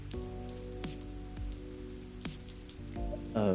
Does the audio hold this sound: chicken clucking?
no